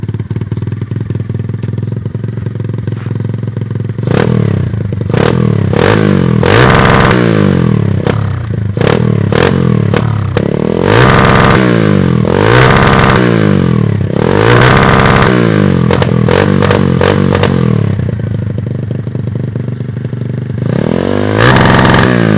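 A pit bike engine revs hard into an 8,000 RPM rev limiter, repeatedly climbing and then stuttering against the cutoff in loud, close bursts. Between pulls it drops back to a rough idle, with no talk.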